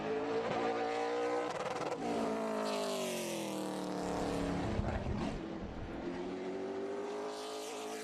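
A stock race car laps Hickory Motor Speedway during a CARS Tour event, its engine wailing loud and continuous as it comes around the track, the pitch rising and falling through the corners and fading slightly at the end.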